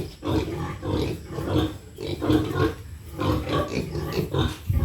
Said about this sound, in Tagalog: May dito rin may mga baboy din dito na pang patiling.